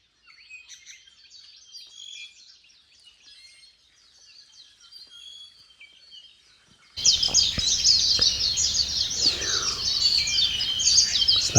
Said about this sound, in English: Listen to all these birds.